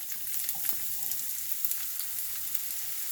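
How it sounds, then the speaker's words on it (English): Scallions fry in hot oil in a pan, giving a steady, close, bright hiss with small crackles and pops, with no talking. "And you hear that sizzle?"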